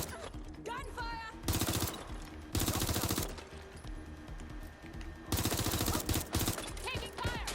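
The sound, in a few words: gunfire in a video game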